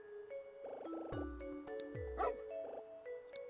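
A dog in the video game Another Code: R gives several short barks and yips in quick succession over a soft game music backdrop.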